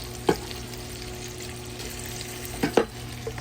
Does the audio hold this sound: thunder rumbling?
no